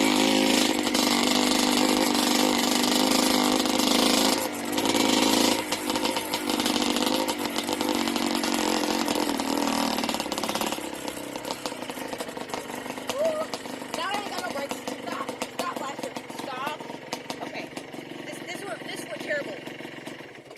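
A Yamaha Blaster ATV engine runs loud and close with a raspy, buzzing drone that holds steady for about ten seconds, then drops to a lower, rougher running level while a person talks over it.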